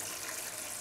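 A glass of wine pours into a pan of thick, chunky tomato sauce, giving a steady, soft liquid gush that runs for just under a second without a break.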